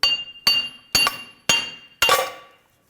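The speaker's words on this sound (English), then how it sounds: "We're going to use our hammer and work that wheel hub out of the knuckle." Five hard metallic hammer blows, about half a second apart, ring out close and loud as a wheel hub is driven out of a 2011-2021 Jeep Grand Cherokee steering knuckle, each clang decaying into a bright ring.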